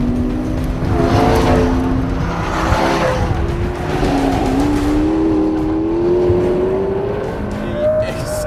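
A 2014 McLaren P1 supercar with around 900 horsepower accelerating hard on a track, its engine note climbing steadily and loudly throughout with some tire noise.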